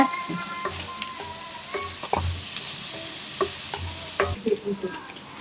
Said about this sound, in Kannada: ಇದು ಫ್ರೈ ಆಗ್ತಾ ಉಂಟು ಇದು ಹಸಿ ಸ್ಮೆಲ್ ಹೋಗೋ ತನಕ ಫ್ರೈ ಮಾಡ್ಬೇಕಂತೆ